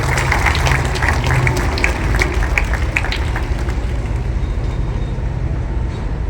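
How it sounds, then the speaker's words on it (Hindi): An audience at a motivational speech claps together in a dense, continuous burst of many hands, loud at first and gradually settling into a softer, rougher background wash. "आपके भी समझ में आए तो ताली बजाइए।"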